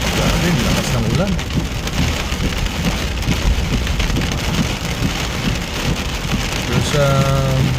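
Heavy rain pours steadily and loudly onto a flooded city street in Steinbach, Manitoba, a dense unbroken hiss with a low rumble underneath and a brief tonal sound near the end.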